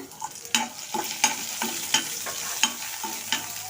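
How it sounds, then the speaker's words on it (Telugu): Curry leaves, dried red chillies and cumin seeds frying in hot oil make a steady sizzle, broken by repeated sharp crackles and pops from a spoon stirring the pan, close up and with no talking. "కరివేపాకు కూడా వేగింది"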